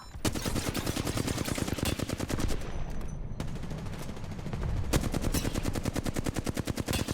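Rapid automatic gunfire in Apex Legends on the Storm Point map, with dense, continuous bursts of shots, a brief pause, then more sustained firing, loud and close throughout without speech.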